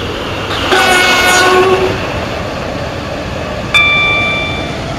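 A Class 143 Pacer train arriving at Eden Quay station, loud rumbling carriages with a sustained horn blast early on and a second sharp horn note near the end.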